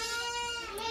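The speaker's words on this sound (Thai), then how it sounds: "แพะครับ" A goat bleats in one sustained, wavering cry, loud and close, during natural goat breeding on a farm.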